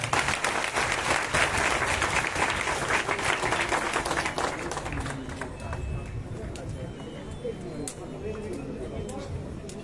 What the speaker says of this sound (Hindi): और एक बार जोरदार ताली बजाएं